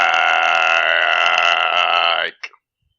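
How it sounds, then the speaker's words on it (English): One long, loud, close burp rumbles on for over two seconds, then a brief small sound follows before silence. "they're burping a lot while they're saying your name"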